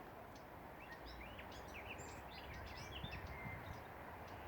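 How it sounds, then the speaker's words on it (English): Soft, scattered bird chirps and high tweets from small birds in a nest in a garden, over a steady, rushing background hiss; calling intermittently, somewhat distant. "the sounds that we're hearing now are the sounds of birds in the nest"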